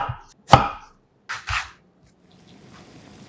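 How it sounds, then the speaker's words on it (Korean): A kitchen knife chops a round Korean joseon pumpkin into large dice on a board: one sharp, heavy chop, then two quicker thuds close together, followed by quiet. "큰 주사위 크기로 깍둑 잘라주세요"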